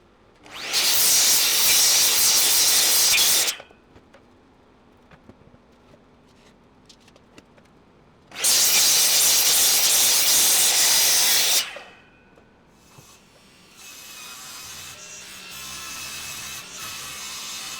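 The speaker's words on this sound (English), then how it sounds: "Next I'll cut the Oregon beams to rough length" A power saw cuts Oregon timber beams to length in two loud, hissing bursts of about three seconds each, separated by quieter workshop shuffling and a low motor hum near the end.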